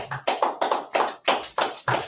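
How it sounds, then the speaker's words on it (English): A few hands clap loudly at a Purim feast gathering, close and alone, striking in a steady rhythm of about seven sharp claps spread over two seconds. "Keep clapping up for that, brother."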